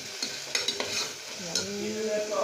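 Cinnamon, cloves, bay leaf and cardamom sauté in hot oil for a vegetable biryani, giving a steady close sizzle broken by a few sharp stirring scrapes and clinks, with a rising gurgling tone near the end.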